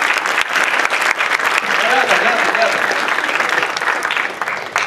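Sustained audience applause fills a university astronomy colloquium hall, a dense steady clatter of many hands that holds strong for several seconds before easing slightly toward the end.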